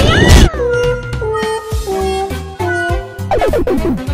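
A voice imitates a cat, giving a run of exaggerated, pitch-sliding meows over busy 8-bit Super Mario Bros. game music and sound effects.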